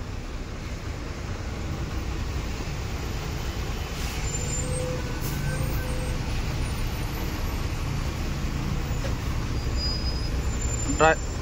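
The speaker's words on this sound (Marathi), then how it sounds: "सर्व्हिस रोडला पण जाम झाले, ट्रकवाल्यांनी वगैरे गाड्या घातल्यात" Heavy truck and vehicle traffic idles and rumbles in a jam on a highway service road in India, a steady dense low drone throughout with a faint brake or horn squeal near the end.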